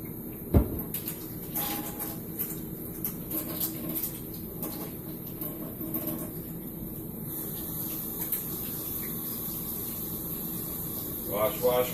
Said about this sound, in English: Wash your hands real quick.